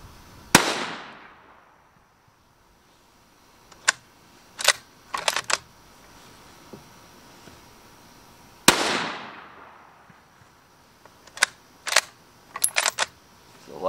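Two loud rifle shots from a Ruger American or M&P 15 about eight seconds apart, each a sharp crack with a decaying outdoor echo, followed by several quick clicks and clacks of the action being worked.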